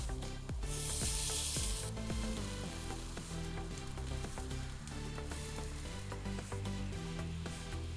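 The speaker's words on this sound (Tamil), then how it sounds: "இப்போ இது லோ ஃப்ளேம் பண்ணிவிட்டு அவலை சேர்த்துடலாம்." Red aval (flattened rice) goes into hot oil over a low flame, giving a soft, continuous sizzle. Background music plays throughout and no one talks.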